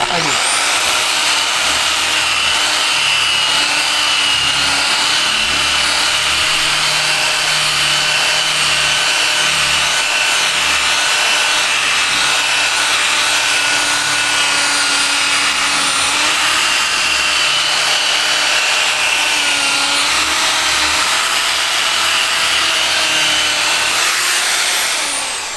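A power tool sands with low-grit abrasive in a workshop, a loud, continuous grinding whine lasting the whole stretch with no pauses.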